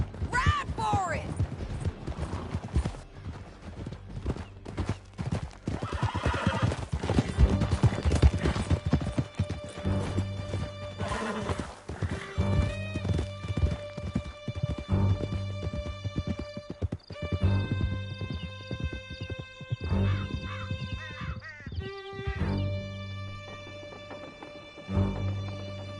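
Horses gallop in a hard clip-clop with whinnies during a canyon chase in the Red Dead Redemption 2 video game, with loud hoofbeats under shouting voices, gunfire and a swelling orchestral score.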